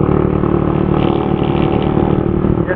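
A TMX 155 motorcycle engine racing at sustained high revs, a loud, continuous buzzing drone close by, with steady road and wind noise and no talking.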